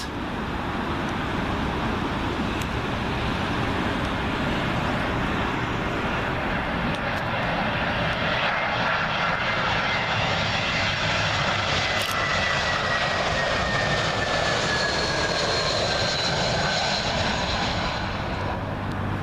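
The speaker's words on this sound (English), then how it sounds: "Got another British Airways A320 arriving here." Loud, continuous engine roar from a British Airways Airbus A320 in from Budapest landing on Heathrow runway 27L, sweeping past close by with a gliding whine, while road traffic hums underneath.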